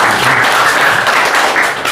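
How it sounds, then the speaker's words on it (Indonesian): An audience at a ceremony for handing over assets applauds the prosecutors, a dense burst of clapping from a crowd filling the whole moment without a break. "Kita tepuk tangan kepada jaksa."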